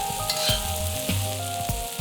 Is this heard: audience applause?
no